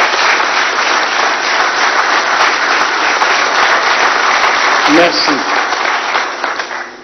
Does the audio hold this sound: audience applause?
yes